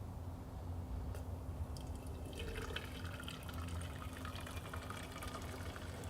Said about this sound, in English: Some boiling water.